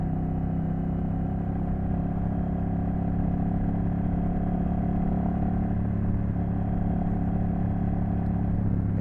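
A Honda Rebel 1100 motorcycle cruises a bumpy backroad, its engine droning steadily and close with a constant rumble and faint rattling throughout, no talking.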